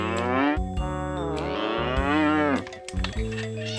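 A cow lows in a series of loud, close, drawn-out moos that rise and fall in pitch, with short breaks between calls and no talking.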